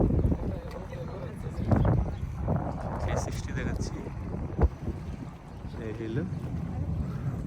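Water laps against the Danube river bank in Belgrade while wind buffets the microphone, a steady rushing bed with a voice talking over it throughout.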